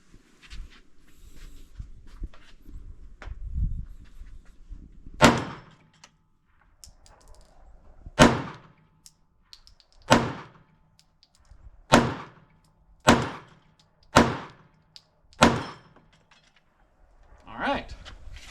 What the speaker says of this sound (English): We're going to try a few shots.